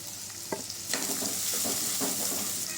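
Green chili frying in a hot pan with garlic and onion for vegetable fried rice, a steady close sizzle with a few sharp stirring clatters of the spatula and no voices.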